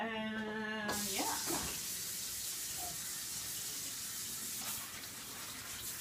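Roma tomatoes are rinsed under a kitchen tap. Water runs in a steady, close rush that splashes over the fruit throughout, after a brief tonal sound at the start. No one speaks.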